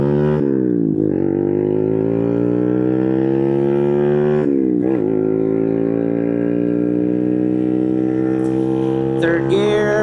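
Boom Vader 125, a Honda Grom clone with a new exhaust, pulls steadily at speed, its engine note rising through long gear pulls with a brief dip at each shift, loud and close throughout.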